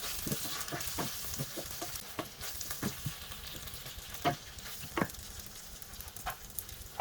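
Carrots are stir-fried in a pan with a brown sugar, garlic, onion and ginger sauce for Mongolian beef. A quiet, crackling sizzle is punctuated by irregular clicks and taps of stirring, with one sharper knock at the end.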